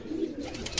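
Pigeons on a rooftop, a low soft cooing murmur running steadily beneath faint wing flutters, fairly quiet and close with no voices over it.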